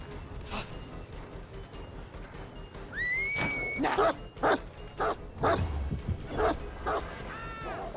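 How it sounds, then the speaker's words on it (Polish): Dog barks in the horror game Dead by Daylight: a series of short, sharp barks and yips in bursts, with a couple of whining whimpers mixed in, moderately close. "Ładnie pies ugryzł."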